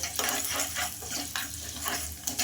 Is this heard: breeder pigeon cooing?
no